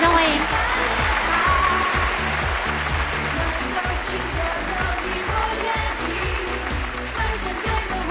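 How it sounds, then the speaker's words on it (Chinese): Studio audience applause on a Chinese dating show, a dense, steady wash of clapping that fills the hall for several seconds with a low rhythmic music bed pulsing underneath. "掌声欢迎"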